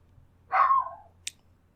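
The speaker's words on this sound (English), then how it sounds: "That's another dog who's barking in the other room." A dog gives a single short bark that sounds muffled, as if from another room, followed a moment later by a faint click in an otherwise quiet indoor space.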